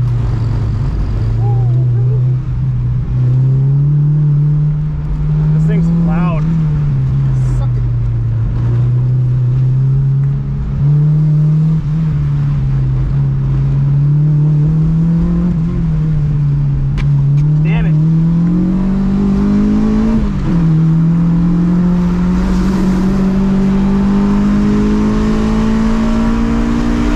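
An autocross car driving through a wet course: a loud, close engine drone that rises and dips steadily through shifts and throttle changes, with someone talking over it.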